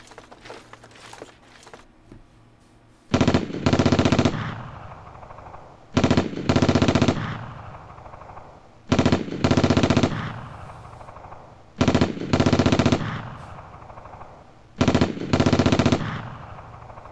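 Machine gun fire in the wargame WinSPMBT, coming in five loud, sharp bursts at roughly even intervals, each a rapid string of shots followed by a fading echo, with no talking over it.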